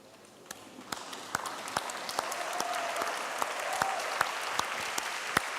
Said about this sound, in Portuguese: Vamos ficar em pé e dar um aplauso para o Senhor